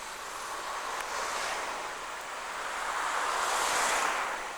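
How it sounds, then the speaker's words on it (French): A polluted stream between Bon-Encontre and Agen, full of dirty water, flows outdoors. The broad, steady rush swells gently, with wind mixed in and no voices. "Alors voici le ruisseau."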